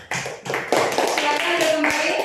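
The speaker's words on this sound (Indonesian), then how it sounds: "Tepuk tangan untuk kelompok 3." Classroom applause for group 3: a burst of quick, sharp hand claps starts abruptly and keeps going, close and fairly loud, with students' voices talking and calling out over it.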